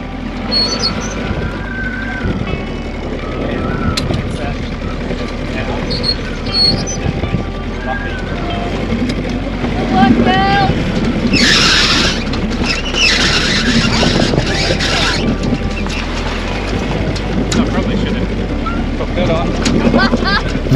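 A sailboat's motor runs steadily under strong wind buffeting the microphone out on the water in about 15 knots of wind, with people talking over the continuous low drone.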